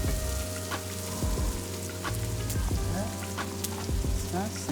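Ginger, garlic and mushrooms frying in a pan for a Bhutanese chicken curry, a steady crackling sizzle with occasional stirring clinks, close and continuous, with faint talk beneath.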